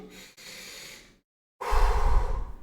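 A deep breathing technique demonstration: a soft, steady exhale trails off into a second of silence, then a much louder, rushing deep breath follows close up, with no talking.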